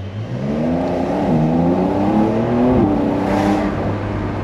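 Loud, close engine note from a Porsche 911 992 Carrera S as it accelerates, a steady rising drone that climbs through the revs, dips briefly at a gear change, then keeps pulling, with no voices over it.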